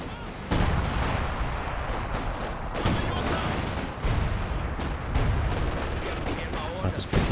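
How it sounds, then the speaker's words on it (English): Sniper and rifle fire in a Company of Heroes 2 battle, sharp shots cracking at intervals over a continuous dense wash of gunfire and artillery, loud throughout. "Sniper's picking a few shots."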